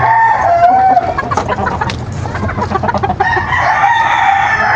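A Boston gamecock rooster crows up close and loud, one long call at the start and another near the end, with clucking and scratchy fowl noises in between.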